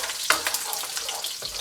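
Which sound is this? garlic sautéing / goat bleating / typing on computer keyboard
garlic sautéing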